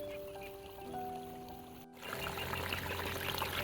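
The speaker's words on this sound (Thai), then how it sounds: "เสียงน้ำไหลธรรมชาติ จากทุ่งนานะครับ" Natural water flows and trickles down through terraced rice fields in Nan province, Thailand; a soft steady stream that swells into a fuller, closer rush of pouring water midway, with no talking.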